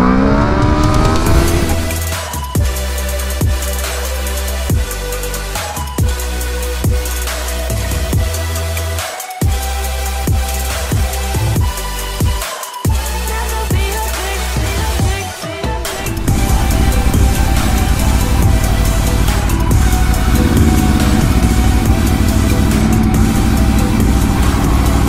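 A 2022 Aprilia RSV4 Factory 1100 sport motorcycle with a BT Moto ECU flash tune, ridden hard with loud, close engine revving that climbs repeatedly through gear shifts, with brief cuts between pulls before a sustained high-revving run.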